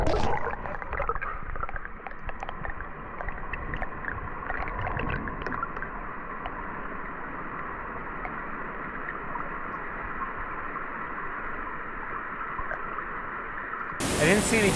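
A small creek waterfall heard through an underwater camera, a muffled, churning rumble of bubbling water that stays steady for most of the clip and ends with a sudden burst of loud hiss.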